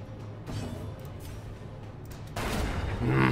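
Gunfire from the video game Darkest Dungeon booms with a muffled blast, followed by a swelling, louder burst of rumbling impact noise toward the end.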